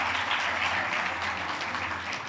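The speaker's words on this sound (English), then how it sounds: "Can you please give them another big round of applause" A large audience applauds at the opening ceremony of the JA Africa Company of the Year 2023 event, a dense, steady wash of clapping that holds at an even level throughout.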